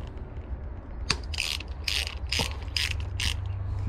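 A ratchet wrench loosens a 13 mm bolt on a Mercury/Yamaha 115hp EFI outboard motor, giving about six sharp, close bursts of rapid clicking in quick succession with a couple of metallic knocks between them.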